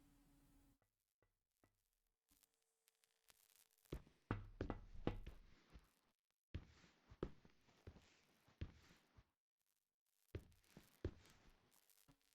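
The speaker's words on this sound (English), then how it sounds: "You're knocking on the fucking glass." Knocking on glass in the ghost-hunting game Phasmophobia: sharp, fairly close raps and thuds in irregular bursts, separated by near-silent gaps, with no talking over them.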